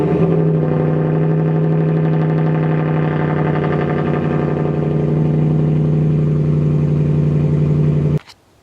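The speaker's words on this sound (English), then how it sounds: "let's do a little cold start clip of the truck" A truck engine idles steadily and loud after a cold start, with an even low drone and a tonal hum for about eight seconds before it cuts off abruptly.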